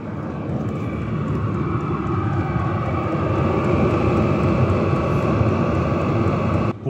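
An 8 kW diesel-powered heater runs with a loud, steady droning roar and low rumble, holding constant before cutting off abruptly at the very end.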